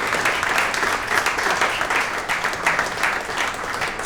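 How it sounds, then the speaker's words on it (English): A conference audience applauds steadily and loudly throughout, a dense sustained wash of many hands clapping together with no pauses. "Massive round of applause."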